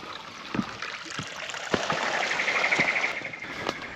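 Fresh mountain water flows steadily from a small creek on Mt Barney, Queensland, a continuous broadband trickle and babble with a few brief splashes and clicks, moderately close and alone.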